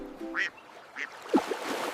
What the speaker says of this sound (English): 4 ducks on a log go quack-ack, quack-ack, quack-ack, quack.